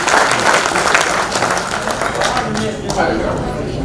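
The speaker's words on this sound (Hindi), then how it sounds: "आप एक बार तालियां दे दीजिए मेरे किस्मत को" An audience at a Hindi poetry gathering (kavi sammelan) in Modinagar breaks into applause, a full, continuous patter of many hands clapping close by that eases slightly toward the end, with voices mixed underneath.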